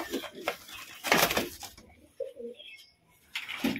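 A male and a female pigeon coo softly inside a cage, giving a few short throaty calls with brief rustles and clatter between them, close and fairly quiet.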